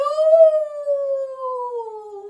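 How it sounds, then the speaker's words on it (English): A coyote howls into a desert night: one long, clear, wavering wail that slowly falls in pitch, loud and close, with nothing else around it. "Cowboy Coyote pulled the prickles from his nose and howled into the night."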